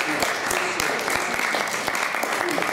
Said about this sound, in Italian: prego a tutti di fare un applauso al nostro